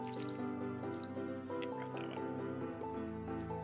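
A frog croaks in a farming video game, the croaking set against steady, layered tonal game music that plays throughout.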